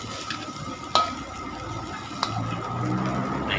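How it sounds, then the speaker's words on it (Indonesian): Nasi goreng kampung rice is stir-fried over a live flame, giving a steady sizzle with a few sharp scraping clinks of the spatula against the pan, close up and without talk. "Nasinya sudah masuk, kemudian diaduk sampai rata dan tetap dalam keadaan api menyala ya."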